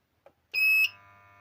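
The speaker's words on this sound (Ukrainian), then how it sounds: "Вмикаю інвертор." A modified sine wave power inverter under repair switches on with a short click, then a loud high-pitched startup beep, and settles into a steady tonal electrical hum that continues alone.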